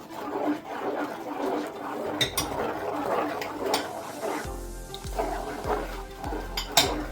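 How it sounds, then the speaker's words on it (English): A spoon stirring a milk and syrup mixture in a metal pot, giving scattered clinks and scrapes against the pot walls, fairly close, with a low rhythmic thumping in the second half. "now you're gonna give it a stir to make sure it doesn't have no lumps"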